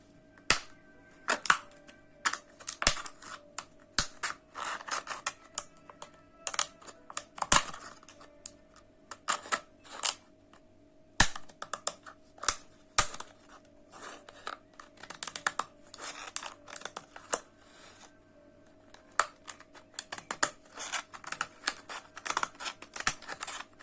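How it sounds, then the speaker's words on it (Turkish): Paper scissors cut through a plastic cup in a run of sharp, crisp snips and crackles, irregular and close, some strokes louder than others, with no talking. "Şimdi o yuvarlakları elde etmek için şöyle kağıt makasım var."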